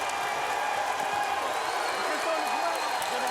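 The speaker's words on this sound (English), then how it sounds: "crowd's picking up" A big basketball arena crowd roars steadily at a Golden Eagles game, a dense sustained wash of cheering and noise with a commentator talking over it.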